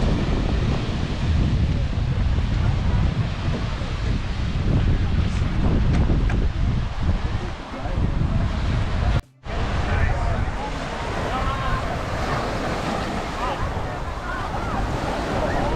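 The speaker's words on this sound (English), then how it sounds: "This is Cavendish Beach, Prince Edward Island." Waves crash and wash in continuously at Cavendish Beach, Prince Edward Island, while wind buffets the microphone, with a brief dropout partway through; a loud, close seaside roar.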